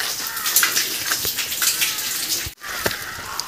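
Cold stream water in Bothoo, Kashmir, flowing and splashing in a steady close trickle with small irregular spatters and one brief drop-out.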